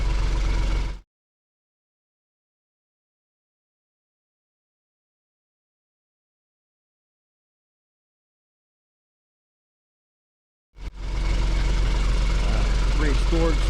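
A 1990 Mitsubishi Fuso 24-seater bus with a 7.5 litre diesel engine and five-speed manual gearbox idles with a rough, steady rumble. It is heard briefly at the start, then a long silence, then it returns near the end.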